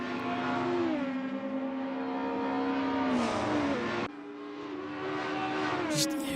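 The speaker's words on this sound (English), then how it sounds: "Just hearing those cars screaming by." Race cars from a sim racing game at Thruxton howl past in quick succession, engines screaming at high revs with pitch sweeping up and down through gear changes, loud and continuous with a brief dip midway.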